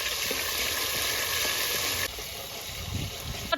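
Tomatoes dropped into hot oil with cumin seeds and turmeric sizzle steadily and loudly, village-style, with a softer hiss and a few stirring knocks in the second half.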